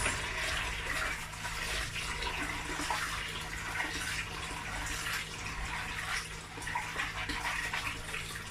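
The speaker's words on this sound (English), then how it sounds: "So I'm going to wash my beans." Running tap water pours steadily over peeled beans being washed in a container, a continuous broadband splashing rush that stays close and even, with faint low hum beneath and no talking.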